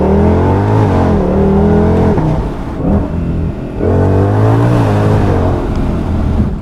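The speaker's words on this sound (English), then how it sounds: "Pulling both paddle shifters you can rev." Shelby GT500 Signature Edition, an 800-horsepower car, revving hard with both paddle shifters pulled, loud close engine with rising and falling harmonic sweeps that climb, drop, and climb again, no talking.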